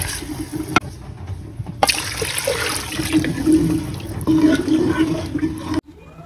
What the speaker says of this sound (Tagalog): Lalagay din po tayo ng mga 2 liters of water.